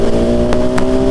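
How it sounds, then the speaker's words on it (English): A 2021 KTM 690 SMC R single-cylinder supermoto engine pulls hard in a brief, loud, steady tone with strong harmonics, heard close up while riding. "very good responsive motor"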